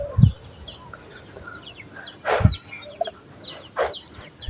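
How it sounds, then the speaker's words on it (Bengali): Chickens clucking near a village house: several short clucks and squawks at irregular intervals, close and fairly loud, with high bird chirps in the background and no talk. "আয় আয় দেখো দেখো মুরগি ধরবো, মুরগি ধর"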